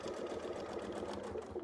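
A sewing machine hums and rattles continuously at steady speed during free-motion quilting, quiet and close with no speech.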